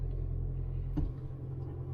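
Inside a 2020 Toyota Corolla Hybrid, a steady low engine drone and road rumble with a brief bump near the middle as the petrol engine kicks on, no voices.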